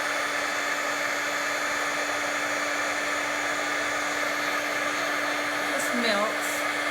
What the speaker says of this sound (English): we're going to change it again with the heat tool